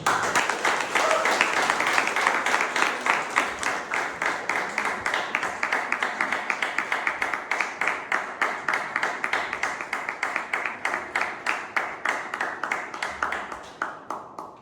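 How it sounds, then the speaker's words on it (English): A large audience at a Toastmasters Tall Tales contest claps steadily for the third-place winner, a dense sustained round of applause that fades out near the end. "Now, the 3rd place or the 2nd runner-up, please give a big round of applause."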